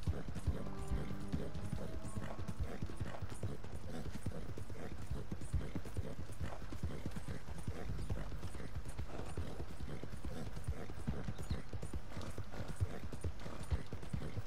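Horse hooves clip-clopping at a slow walk through a town in Red Dead Redemption 2, a steady close rhythmic clatter with faint mechanical creaks running throughout, no talk.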